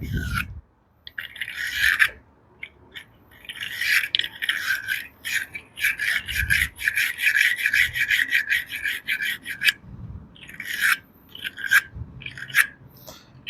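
A wire brush scrubs heavy corrosion off Jeep Grand Cherokee battery terminals in quick, rhythmic rasping strokes, close and fairly loud, with short pauses between bursts.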